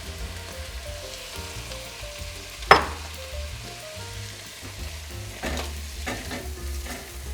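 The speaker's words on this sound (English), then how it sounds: "It's time for our potatoes to go in." Two small red potatoes with skins on dropped into a pot of Italian bean soup: a sharp single splash-thud, then steady simmering sizzle and a few soft stirring clinks, no voices.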